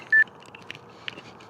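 A fitness tracker alarm gives one short, clear electronic beep near the start, followed by faint scattered ticks and light background noise.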